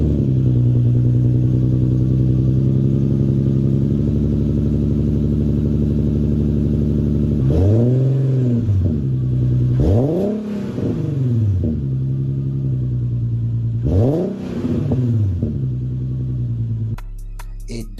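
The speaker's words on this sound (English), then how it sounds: "This car sounds great." A car fitted with the same engine as the Infiniti G37 idles steadily up close, then revs sharply three times, each climb falling back to idle, with no voices.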